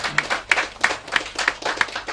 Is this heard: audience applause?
yes